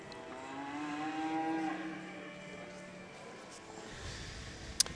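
A red heifer mooing in the show ring at a spring livestock show in British Columbia, one long drawn-out low call at moderate distance over steady hall noise, ending with a sharp knock.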